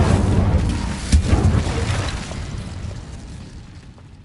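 Incendio fire spell cast in Hogwarts Legacy, a loud booming burst of flame that erupts near the start, peaks around one second, then rumbles and fades away over several seconds.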